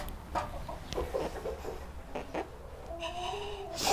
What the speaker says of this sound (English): We found them to be very, very nice and friendly chickens